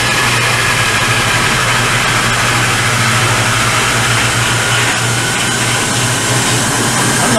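Metal lathe running in back gear, a steady mechanical drone with a low hum and a broad hiss that holds an even, continuous level throughout.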